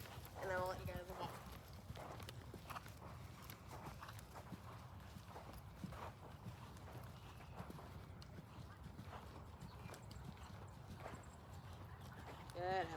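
Horse hooves clip-clopping on the footing of a riding arena at a walk, a steady soft rhythm of hoofbeats close by, with an instructor's voice talking over them throughout.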